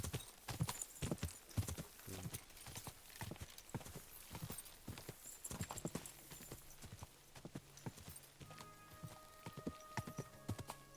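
Horse hooves gallop in a steady, rapid clip-clop rhythm in the video game Kingdom Come: Deliverance 2, with faint whinnies and tonal game music entering near the end; no speech.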